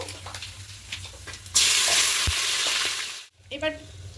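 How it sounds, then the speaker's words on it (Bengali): Cloves, cardamom, black peppercorns, cumin, cinnamon and four bay leaves hit hot oil for a chicken recipe, starting a loud, bright sizzle that swells suddenly and holds steady before cutting off, followed by a few small clatters. "এবার তেলের মধ্যে দেব, ফোড়নে দেব। এখানে আছে লবঙ্গ, এলাচ, গোলমরিচ, জিরে, দারুচিনি দিয়ে দেব।"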